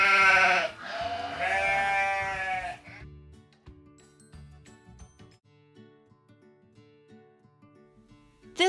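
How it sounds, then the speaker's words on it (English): A sheep bleats loudly and close in two wavering cries over the first few seconds, then falls silent while a soft tinkling, bell-like musical background carries on alone. "This was a sheep."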